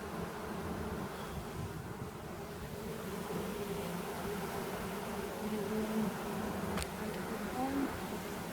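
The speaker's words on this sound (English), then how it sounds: "And they're fanning and they're giving off the pheromone, letting them know this is where home is in here" A steady, close buzzing drone of honeybees fanning their wings at the hive entrance, continuous and even throughout, with faint outdoor background.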